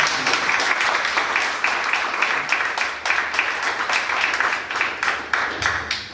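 An audience at a 2017 candidate forum applauds steadily, dense continuous clapping from many hands filling the room for several seconds, loud and without speech.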